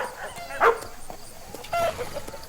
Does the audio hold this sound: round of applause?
no